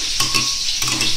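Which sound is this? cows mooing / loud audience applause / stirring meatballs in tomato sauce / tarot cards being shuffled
stirring meatballs in tomato sauce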